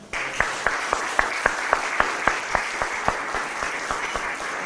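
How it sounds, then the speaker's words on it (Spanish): Church congregation applauding, a steady wash of clapping with regular rhythmic accents of unison claps running through the whole stretch, fairly close and full. "Démosle un aplauso a Jesús."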